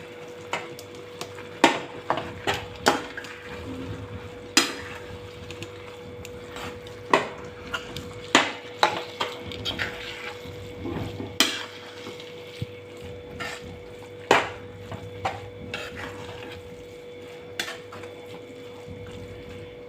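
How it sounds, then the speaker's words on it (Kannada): Soya kheema stirred into simmering masala in a pan, with repeated sharp scrapes and clinks of a spoon against the pan over a low sizzle, close and moderately loud. "ಈಗ ಮಸಾಲೆ ಕುದ್ಬಿಟ್ಟು ಸ್ವಲ್ಪ ಎಣ್ಣೆ ಬಿಟ್ಕೊಳ್ಳೋಕೆ ಸ್ಟಾರ್ಟ್ ಮಾಡಿದಾಗ ನಾವು ಇದು ಸೋಯಾ ಕೀಮಾ ಏನಿದೆಯಲ್ಲ ಅದನ್ನು ಹಾಕ್ಕೊಂಡ್ಬಿಡೋಣ"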